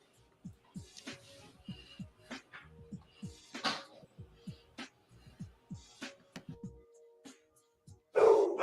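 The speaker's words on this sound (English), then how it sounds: "I've got a bulldog and a border collie, and they like to bark at everything." A bulldog and a border collie bark repeatedly in sharp, uneven bursts at close range, with brief pauses between barks and a louder burst of noise at the very end.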